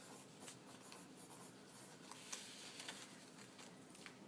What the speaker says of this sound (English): on the outside we're going to write the 4 particles